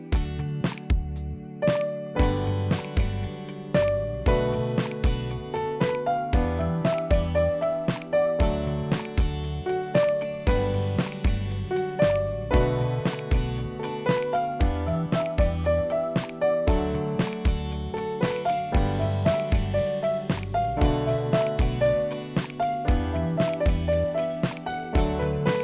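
Piano plays the chorus of a song in an intermediate lesson arrangement, with a steady rhythmic chordal accompaniment under a melody line. The playing is clear, close and continuous, with no voices.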